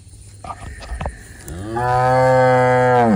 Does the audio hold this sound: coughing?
no